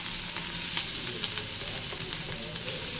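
Green chillies and onions frying in hot oil with fennel seeds, a dense continuous sizzle with light crackles and soft stirring, close and steady throughout.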